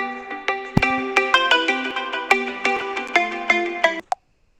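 A phone ringtone plays a quick melodic sequence of bright synthetic notes, close and clear, ending abruptly after about four seconds into silence.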